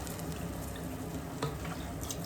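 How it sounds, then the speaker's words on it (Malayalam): Water poured from a cup into a pan of Kerala-style prawn curry (chemmeen theeyal) makes a steady splashing stream. It runs continuously for about two seconds, close by and fairly quiet. "ഇനി ഇതിലേക്ക് ഒരു ഒരു കപ്പ് വെള്ളം"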